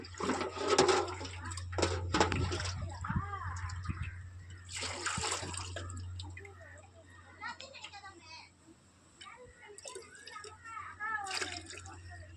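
Water is poured into a kalchatti stone pot to measure how much it holds, producing splashing, trickling and dripping sounds in bursts while people talk over it.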